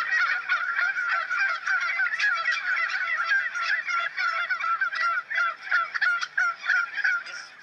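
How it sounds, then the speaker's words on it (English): A large flock of bronze turkeys gobbles continuously on a farm, a dense, loud chorus of overlapping rattling calls with no voices, swelling into choppier bursts toward the end. "So, Jerry, how many turkeys do you have here?"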